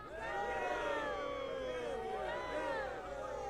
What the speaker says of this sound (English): Why are they Young booing?